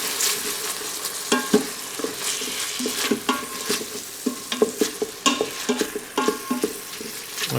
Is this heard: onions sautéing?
yes